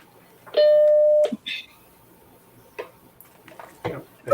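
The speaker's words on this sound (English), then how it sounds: "That's a healthy startup chime." A retro computer's startup chime rings out once, loud and close, followed by faint ticks and small clicks.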